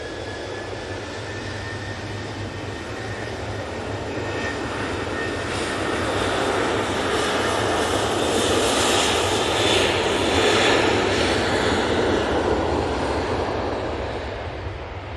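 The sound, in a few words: jet airplane at Manchester Airport runway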